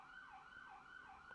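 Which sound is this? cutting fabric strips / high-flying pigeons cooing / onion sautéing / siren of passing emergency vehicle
siren of passing emergency vehicle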